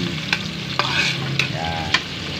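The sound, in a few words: stirring sautéing onions and chicken in pan for tinola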